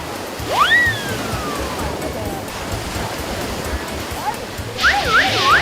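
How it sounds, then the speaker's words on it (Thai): Strong sea waves surge and wash onto a beach at an outdoor filming location, a steady loud roar of surf throughout, with whistle-like calls rising over it early on and again near the end. "การถ่ายทำตรงนี้ ดูจะมีคลื่นที่ค่อนข้างแรง"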